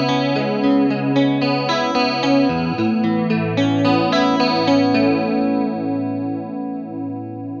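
An electric guitar runs through a chorus modulation effect set to a longer delay time with extra high cut, sustained chords shimmering and wavering in a warm, softened tone, close and loud with no talk, slowly fading toward the end.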